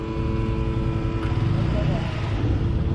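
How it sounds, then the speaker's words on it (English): An Aprilia motorcycle being ridden on the way to Zero Point and Saheibung Peak, with a steady engine drone and wind rush held at constant loudness throughout, no pauses. "It feels so good to drive this Aprilia."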